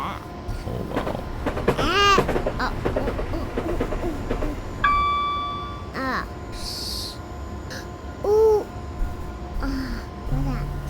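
A train in the Train Simulator 2015 game rumbles and clatters along the track, with horn blasts and a squealing tone over the running noise, and people talk throughout.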